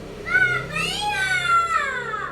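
A cat meows in a kitchen while food is being eaten, with a few drawn-out rising and falling calls mixed with nearby voices and someone speaking.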